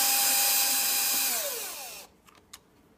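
A power screw gun whirs steadily while backing the battery screws out of a hoverboard, its pitch sliding down as it winds off, then stops, followed by two faint clicks.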